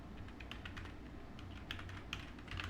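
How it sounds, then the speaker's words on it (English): Steady clicking of computer keyboard keys typing a web address into a site audit tool, a quick irregular run of soft taps heard close and alone with no talking. "So I'm going to go ahead and type in"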